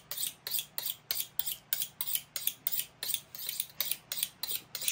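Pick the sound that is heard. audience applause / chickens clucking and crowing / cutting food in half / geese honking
cutting food in half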